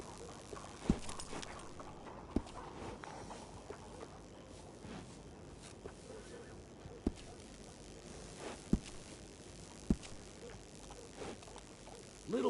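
Horse hooves in a PS4 video game give sparse, sharp knocks at irregular intervals over a quiet background, about half a dozen distinct taps spread across the stretch.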